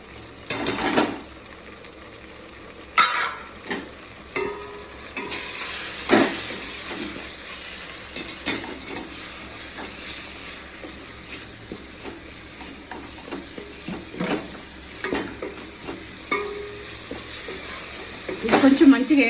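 Ground pepper spice powder for rasam fries in a pan, a steady sizzle with scraping stirs and occasional clinks from the spoon against the pan, close and moderately loud, with no talk.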